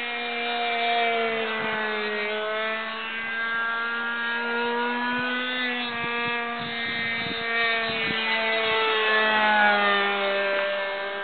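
A radio-controlled SE 5A WWI biplane model flies with its small engine droning steadily, a continuous buzzing whine that wavers slightly in pitch as it holds altitude.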